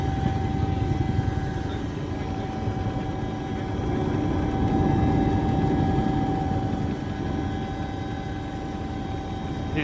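A helicopter flies and banks over the Dun Briste sea stack on the Mayo coast, its loud, steady rotor and engine drone heard close up and continuously with a slight swell midway.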